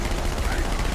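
Video game gunfire crackles in a steady, dense stream of rapid shots throughout the second, loud and close, with a player's voice faintly mixed in.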